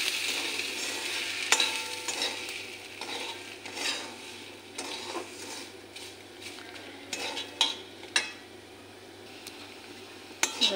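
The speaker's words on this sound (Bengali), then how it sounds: "সুজিটা ভালো করে মিশিয়ে নিই।" Semolina stirred and fried in a pan with vegetables for savoury spicy suji, giving a soft steady scrape and rustle with intermittent clinks of a spoon against the pan, moderately close and alone.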